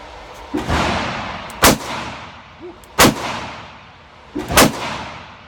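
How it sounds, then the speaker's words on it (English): A small handgun fires three shots at 25 yards, each a sharp, loud crack spaced about a second and a half apart, with fainter clicks and handling noise in between and no talking. "3 shots at 25 yards"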